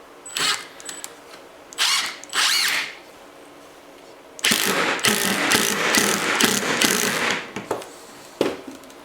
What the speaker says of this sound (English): Just running these screws at a bit of an angle because they are 3-inch